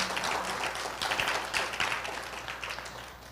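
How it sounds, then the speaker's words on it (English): Applause from a large audience at a university event, a dense, steady wash of many hands clapping that carries evenly through the whole stretch with no voices on top. "Does that get a round of applause?"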